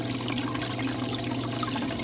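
Water flows steadily through a blue bowl gold concentrator during a gold clean-up, a continuous close trickling wash over a low steady hum.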